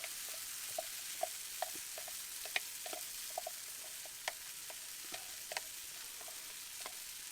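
Food sizzles in a cast iron pan over a camp stove, a steady soft hiss dotted with scattered sharp pops and spatters, close but fairly quiet, no talking.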